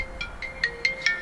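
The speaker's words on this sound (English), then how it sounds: "I'm gonna have to pick up this phone call real quick." A phone ringtone sounds as a short series of five quick, bright beeps in an even rhythm, near and clear over a faint background, without talk.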